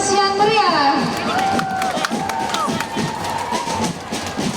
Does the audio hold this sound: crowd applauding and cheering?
yes